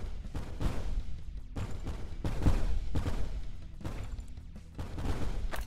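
Repeated blaster shots from the space shooter game Super Mega Space Blaster Special V2, a loud, steady stream of bursts and booms pulsing every second or so with no one talking.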